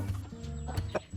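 Roosters on a poultry farm, including Eagle-faced American and Wyandotte breeds: short, fairly faint clucking calls in a brief burst.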